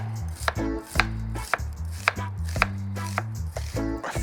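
A sweet onion, stem left on, being chopped on a board, with roughly eight sharp knife strikes at a steady half-second rhythm, close and loud, with no talking.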